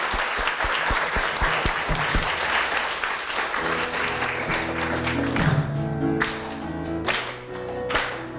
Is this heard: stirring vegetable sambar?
no